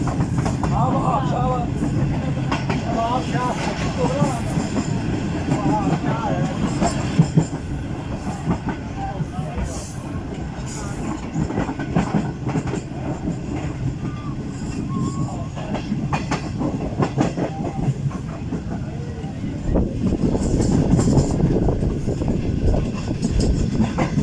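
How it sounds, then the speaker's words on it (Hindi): The Karakoram Express slows toward a junction, heard from inside the last coach: steady rumbling wheels with clickety-clack beats and occasional squeals, continuous and fairly loud throughout. "वीवर्स, गाड़ी की स्पीड स्लो हो चुकी है और अब आने वाला है टंडो आदम जंक्शन रेलवे स्टेशन"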